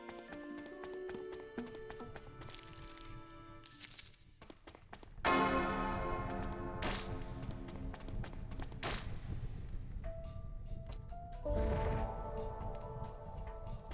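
A bell is struck in a retro, Super Nintendo-style video game, giving bright ringing tones over busy game music and sound effects, with a loud strike midway and another near the end.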